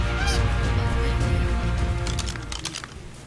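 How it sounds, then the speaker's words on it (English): A dodo in the video game ARK: Survival Evolved gives loud, close, goose-like honking calls, a continuous run of nasal honks that thin out into a few short squawks at the end. "Time to kill some Dodo Bird."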